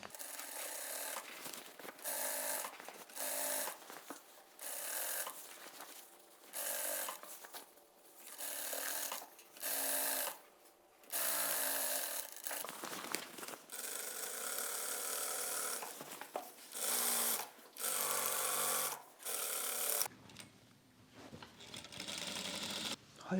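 A sewing machine stitches fabric in repeated short bursts, a rapid mechanical whir that starts and stops about every second or two, close and fairly quiet, with brief pauses between runs.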